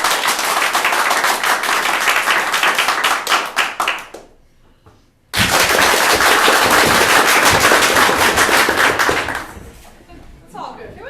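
An audience claps hard and fast in two long bursts split by a brief silence, the dense applause rising to a loud, rattling peak, with cheering and shouts mixed in, before trailing off into quieter noise.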